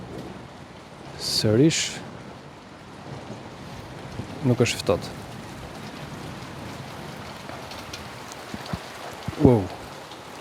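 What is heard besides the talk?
rain and thunderstorm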